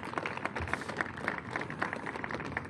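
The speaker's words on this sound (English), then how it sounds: "Let's give them all a round of applause." Crowd applause at a groundbreaking ceremony for a development project in Washington, D.C., a steady, moderately close patter of many hands clapping throughout.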